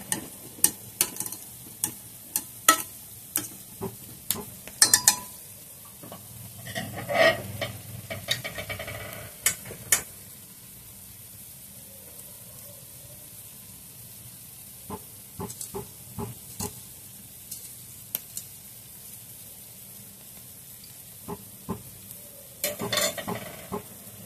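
A spoon scrapes and clacks in bursts against a pan of ragda, a spiced pea curry, stirred over a soft background sizzle, with quiet pauses between the louder stirring strokes.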